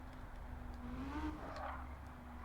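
A race car in Gran Turismo 7 brakes into a corner with a brief, faint tire squeal over a steady low engine drone.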